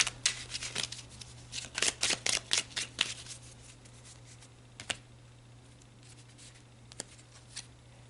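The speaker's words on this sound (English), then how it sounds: "All right, let's pull a few more cards." A deck of tarot cards is shuffled in quick, close, crisp riffling bursts, and then a few cards are flicked and drawn singly as sparse soft snaps against a faint steady hum.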